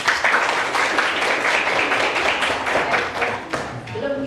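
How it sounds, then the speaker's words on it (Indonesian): Seventh-grade students in an Islamic history lesson clap together in a classroom. The fairly loud burst of clapping runs for about four seconds, with a brief pause near the end and faint voices mixed in. "bagus, tepuk tangan."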